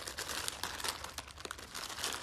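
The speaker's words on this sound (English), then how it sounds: "now my cat's gonna do some ASMR and chew on the plastic bags" A cat chews on crinkly plastic bags indoors, making soft, close, irregular crackling and rustling bursts that stay quiet throughout, with no talking.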